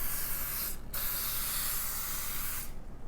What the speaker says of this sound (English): I'm going to go ahead and spray the side of the pan